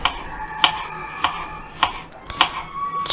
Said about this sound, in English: chopping it up to go in